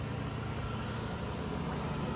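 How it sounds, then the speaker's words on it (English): Generator running onboard a 2008 Exiss Sport 4-horse, 8-wide living-quarters trailer gives a steady low engine drone with a dull rumble, constant and moderately distant, with no voices. "I actually have that generator running currently."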